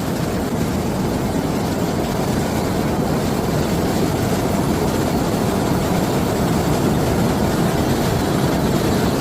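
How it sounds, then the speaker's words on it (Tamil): Water from the opened Kallanai dam roars through the sluices in a loud, steady, unbroken broadband rush that fills the whole clip, with no voices over it. "ஸோ அணை ஓப்பன் பண்ணி விட்டுருக்காங்க. பயங்கரமாக ஓடுது"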